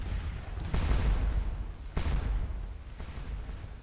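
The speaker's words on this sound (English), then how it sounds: "And we are indeed firing on the cannon." Cannon artillery fires in the Scourge of War battle game, three or four deep booming shots spaced about a second apart, each rolling out into a low rumble.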